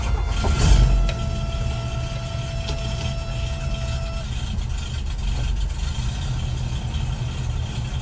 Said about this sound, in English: time for a cold start